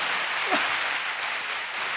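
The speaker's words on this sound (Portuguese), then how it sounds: "Uma salva de palmas a esse Deus bom." Church congregation applauding during a sermon, a brief, dense burst of clapping that fills the room evenly, with a faint vocal sound near the start.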